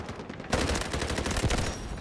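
Rapid automatic gunfire rings out in a Delta Force video game battle, a sharp burst that kicks in abruptly after a short quiet lead-in and continues as dense, loud, repeated shots.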